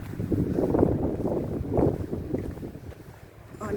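Gusty wind buffets the microphone in loud, uneven surges while hiking near Steall Gorge below Ben Nevis in the Scottish Highlands, with no clear talk over it.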